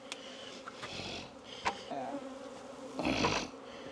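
Honey bees buzz around an opened, honey-bound hive, several faint to moderate drones rising and falling as individual bees pass close, with soft handling clatter between.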